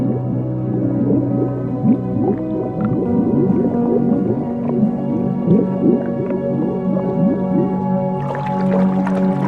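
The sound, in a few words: dolphin whistles and clicks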